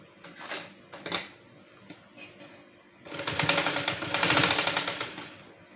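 A sewing machine stitches seams on a dress coat, with a few short bursts early on, then a louder steady run of stitching that lasts about three seconds, close by, with no talk.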